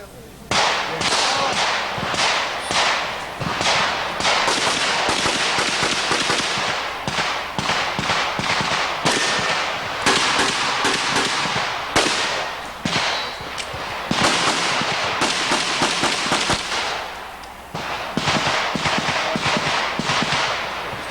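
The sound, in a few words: gunshots from a shooting demonstration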